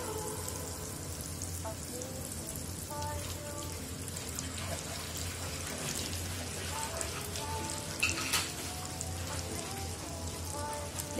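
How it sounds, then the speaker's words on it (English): Butter melts in a frying pan with sesame oil, giving a soft, steady sizzle and crackle, faint and continuous, with a few sharper pops near the end. "In our pan, let's put the butter"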